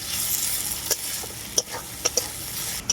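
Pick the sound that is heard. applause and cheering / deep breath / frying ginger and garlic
frying ginger and garlic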